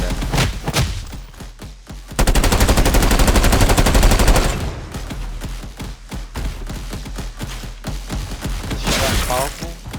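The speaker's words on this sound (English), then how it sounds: "the player will be most likely using the rifle to shoot the exploding barrels from a distance" Rifle fire and explosions from a 3D video game level with exploding barrels and enemies, loud rapid machine-gun bursts and thuds, a dense sustained stretch of automatic fire, and crashing blasts, with a voice talking over the action.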